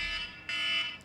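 An alarm going off, a steady electronic tone that sounds briefly, cuts out, then resumes louder for about half a second before fading.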